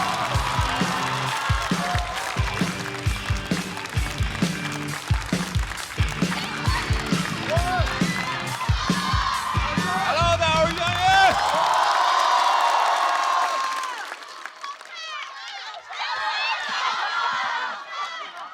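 A stand-up comedy show audience cheers and claps as a comedian walks on stage, a loud crowd swell rising over rhythmic music, then fading as a voice begins talking.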